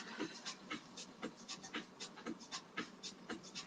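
Slow, rhythmic breathing during a floor relaxation exercise, soft inhales and exhales repeating at an even pace, faint and close with no talking.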